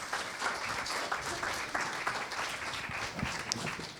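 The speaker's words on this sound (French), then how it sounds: "on peut applaudir La fille de son père" Audience applause at a short film festival round table, a steady wash of many hands clapping at moderate distance, even and sustained throughout.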